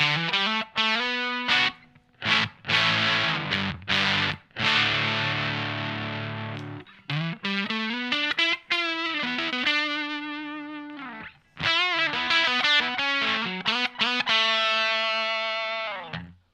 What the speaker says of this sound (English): So still reasonably overdriven kind of tones there.